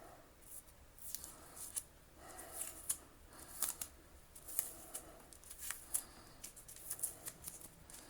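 Adhesive tape is picked at and peeled off the cable of a Hoover Junior U1346A vacuum cleaner, making soft, close, intermittent crinkling rasps and sharp little tearing ticks with quiet gaps.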